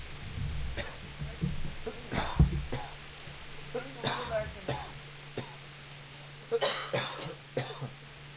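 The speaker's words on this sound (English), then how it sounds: "Everybody's coughing!" Several sharp coughs from more than one person, scattered irregularly, with quiet murmuring in between.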